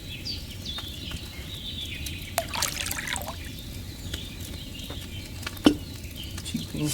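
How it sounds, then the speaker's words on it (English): Wine pours into a cauldron in Kingdom Come: Deliverance 2 as a soft liquid trickle with light splashes, fairly quiet, against low background ambience and a few small clinks. "First, you have to pour the right base into the cauldron."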